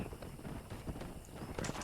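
Horse hooves clip-clopping in Red Dead Redemption, a steady close run of hoofbeats over a wind-like game background, with no talking.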